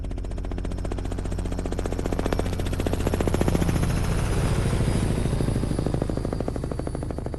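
Robinson R66 helicopter flying in its peak blade-vortex interaction condition, a loud continuous rapid blade slap with steady rotor thump and turbine roar, swelling slightly mid-way, with no voices.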